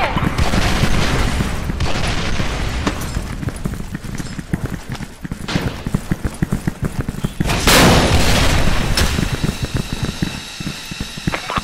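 A grenade explosion in the shooter game Special Force 2 bursts out as a loud blast in the middle of dense, continuous gunfire and mechanical clatter during a clan match, with voices under the din.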